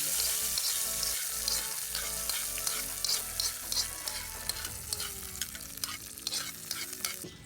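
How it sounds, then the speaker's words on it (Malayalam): Mustard seeds are tempered in hot oil for a pickle-based achar curry, crackling and sizzling up close, with stirring scrapes and sharp pops that grow more scattered over time. "അപ്പം ഇനി കടുക് താളിക്കലാണ്."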